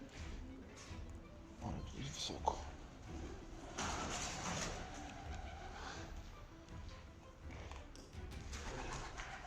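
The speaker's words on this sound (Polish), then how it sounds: "Wszędzie gołębie." Soft pigeon cooing echoes at a distance inside an abandoned boiler house among footsteps and shuffling, with a brief knock partway through.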